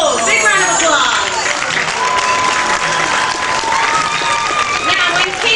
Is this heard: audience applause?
yes